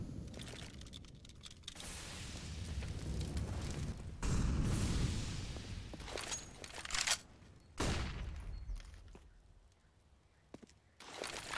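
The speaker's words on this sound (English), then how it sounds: "Flashbang is going to go up" Flashbang grenade and gunfire in a Counter-Strike match on the Inferno map, with loud bursts and booms breaking up a busy stretch of game noise and a sudden sharp pop near the end.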